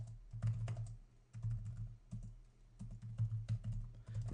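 Fast typing on a computer keyboard while entering router access-list configuration, bursts of rapid close key clicks separated by short pauses, alone without talk.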